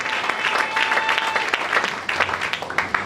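Church congregation clapping in acclamation of the Lord during a French-language service, dense steady applause with sharp individual claps throughout, close and full, a faint sustained tone briefly under it.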